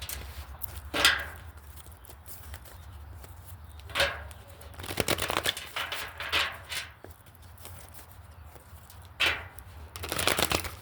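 Tarot cards shuffled and drawn during a card reading, heard as soft papery riffles and flicks that come in a few brief bursts over a steady low room hum, with no talking.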